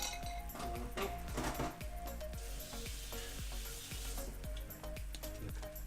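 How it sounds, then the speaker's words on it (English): Spoon stirring instant noodles in a pot, with repeated clinks and scrapes over a steady simmering hiss, close and moderately quiet, no talking. "Stir it a bit, stir it a bit."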